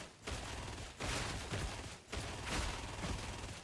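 Sustained automatic gunfire as a full magazine is emptied into a horde in Warhammer 40,000: Darktide, a loud, dense stream of shots broken by two short pauses, close and continuous with no talk.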